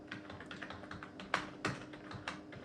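Typing on a computer keyboard, a quick run of light clicky keystrokes with a few louder taps, close and alone with no talking.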